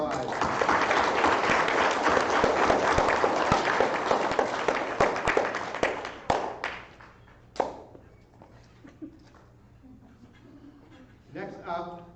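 Audience at a school moving-on ceremony gives a big round of applause, dense clapping for about six seconds, then it thins to a few scattered claps before a voice begins speaking.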